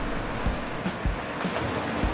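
Ocean waves surge and churn against a sea cliff above a coral reef, a broad steady wash of surf with soft repeating thuds, loud and close with no voices.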